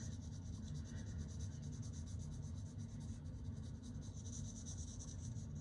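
Pencil lead rubbing steadily across paper while shading a value scale, with pressure building gradually; a soft, continuous close-up scratching that stays alone, with no talk.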